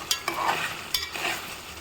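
Curry cooking in a pot as its water dries out, sizzling and frying with a few sharp scraping stirs, close and fairly loud with no one talking.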